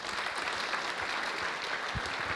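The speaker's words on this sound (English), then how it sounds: "please give him a round of applause and welcome him to the stage" A conference audience applauds steadily to welcome a speaker to the stage at a talks event, a dense, even wash of many hands clapping throughout.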